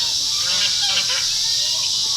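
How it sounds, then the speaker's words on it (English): A flock of about six geese honking steadily outdoors, moderately loud and continuous, with repeated overlapping honks throughout and no clear talk over them. "So Jeff has about 6 geese."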